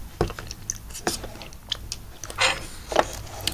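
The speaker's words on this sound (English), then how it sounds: "let me eat some yogurt." Close-up, quiet eating of cherry-flavored yogurt, with irregular short wet bites, smacks and slurps scattered across a few seconds.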